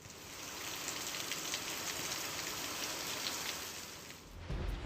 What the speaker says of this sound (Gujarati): દલખાણિયા, ચાંચે, આંબાગાળા અને સોઢાપરામાં વરસાદ પડ્યો।